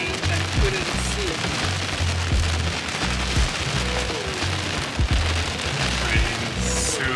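Heavy rain pours steadily during a thunderstorm on a street at night, a dense loud hiss of drops hitting surfaces close by, with faint low rumbles and a few brief tonal sounds underneath.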